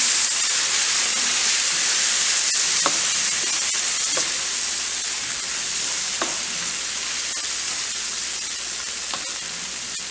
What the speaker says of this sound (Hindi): इसमें हम डाल लेंगे अपनी मैगी, ये जो हमने बॉईल करी है, और इसको अच्छे से मिक्स कर लेंगे।